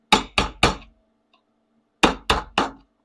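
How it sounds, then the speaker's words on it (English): Sharp metal punches into the top of a fresh can, struck in two quick bursts of three close, loud impacts separated by a pause, with no talking. "I like to punch a few drain holes in the top"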